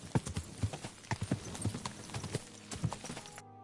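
Hooves clatter in a quick, uneven galloping rhythm in the video game Kingdom Come: Deliverance 2, close and clear, then stop abruptly, leaving a faint hum.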